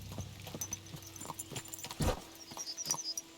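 Horse hooves clip-clop at a walking pace in the Kingdom Come: Deliverance 2 video game, a fairly quiet, even series of close hoof clops with one heavier thud partway through and no voices.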